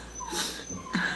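A pet dog whimpers close by in two short, high, whining cries, with soft breathing in between and no one speaking.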